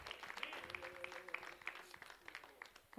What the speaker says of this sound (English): Let's give the Lord a hand clap of praise as Sister Dalton comes.